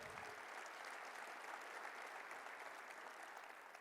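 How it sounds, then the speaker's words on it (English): An audience at a lifetime-achievement ceremony claps steadily, a dense, even wash of applause that holds for several seconds and then begins to taper slightly. "Let's give them a round of applause."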